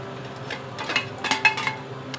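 A metal spatula scrapes and taps against a wok while stirring XO sauce ingredients with sacha sauce, chili sauce and bean paste, giving a few quick metallic scrapes and clinks at close range.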